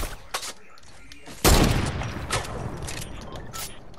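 Gunfire in a Fortnite-style Tank LTM Summer Royale match: scattered distant shots, then a sudden loud burst of fire at about 1.5 seconds, followed by sustained noisy shooting and impacts, with players talking over it.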